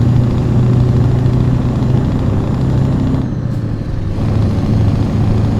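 Scania 4 Series 164L V8 truck engine in Euro Truck Simulator 2, a loud steady low drone with a brief dip in the middle before it resumes, running continuously on its own with no talk.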